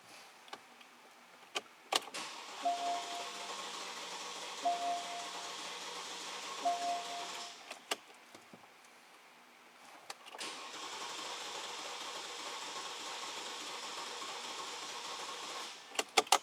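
Porsche Cayenne 4.8 V8 with a misfire cranking over on the starter during a compression test, a steady mechanical churn that pauses and resumes, moderately loud and close, with no talking.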